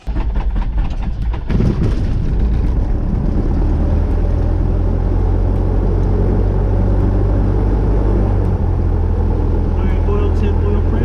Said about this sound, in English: let me get this daggone engine started so we can get some heat up in this piece